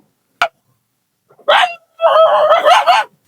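A dog barks outdoors near mango trees: one sharp, loud bark, then a pause, then a longer run of strained, whining barks and yelps close by, with no talking.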